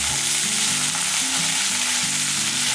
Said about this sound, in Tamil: பாருங்க, இதெல்லாம் நல்லா வதங்கிட்டு இருக்கட்டும்.